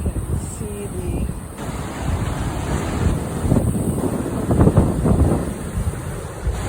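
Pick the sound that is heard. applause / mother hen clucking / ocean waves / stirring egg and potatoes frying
ocean waves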